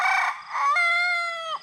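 A young rooster whose voice is changing gives one close crow lasting under two seconds. It starts with a raspy, cackly burst and ends in a strained, wavering held note.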